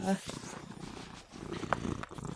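A cat purrs softly and continuously at close range, a low rumbling drone, with brief handling noises partway through.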